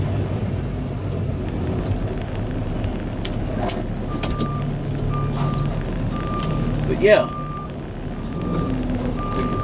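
A truck's reversing beeper chirps in a steady repeating pattern while the truck is backed into a parking spot, the beeps moderately loud under engine rumble as someone talks over it.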